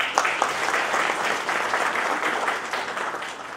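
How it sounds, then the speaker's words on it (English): Audience applause fills a hall, a dense, continuous burst of many hands clapping at steady volume for a few seconds. "welcome ourselves with a huge round of applause"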